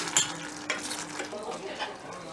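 Meat with prunes is stirred in a pot, a steady close sizzle broken by a few scraping clinks of a utensil against the metal, with no voice heard.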